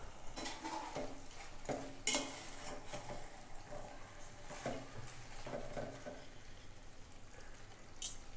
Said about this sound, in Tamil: இப்போது இதில் வறுத்து வச்ச சிக்கனை சேர்த்துடலாம். இதையும் நல்லா கலந்துடலாம்.